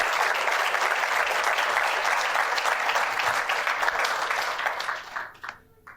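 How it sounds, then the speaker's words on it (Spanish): A church congregation applauds loudly and steadily in a hall, a dense wash of clapping that fades out over the last second. "Un aplauso fuerte para las hijas."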